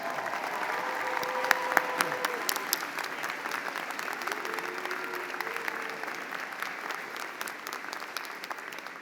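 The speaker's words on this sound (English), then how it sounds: "Let's give them a round of applause." Audience applause for faculty members on stage at a university convocation ceremony, steady dense clapping from a large crowd in a hall, sustained and fairly distant with a few voices calling out.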